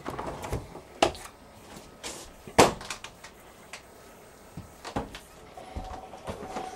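Doors of a Dometic double-door fridge in a travel trailer are opened and shut, giving several close, sharp clunks and latch clicks spaced irregularly over a quiet room.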